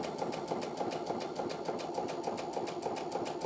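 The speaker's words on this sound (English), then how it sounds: "Now I'll go back over the top of that with a zigzag stitch." A Brother sewing machine runs steadily through a zigzag stitch, its needle ticking in a fast, even rhythm close up with no talking.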